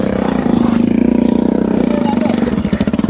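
A motorbike engine rumbles steadily on an icy, snow-covered mountain road on the ride to Sandakpur, Ilam, with a loud close chugging beat that turns uneven and choppy near the end.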